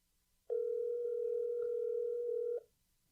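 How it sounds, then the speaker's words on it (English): A single steady electronic telephone tone in a toy department, one continuous clear beep lasting about two seconds, close and alone against a quiet background. "it's just a phone ringing in the toy department?"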